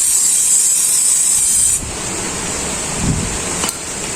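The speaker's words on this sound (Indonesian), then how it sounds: "kita bisa semprot dulu pakai brake cleaner." Brake cleaner is sprayed onto the front brake of a Honda ADV160 motorcycle, a loud, close, sharp aerosol hiss that runs for almost two seconds and then cuts off, leaving quieter background noise.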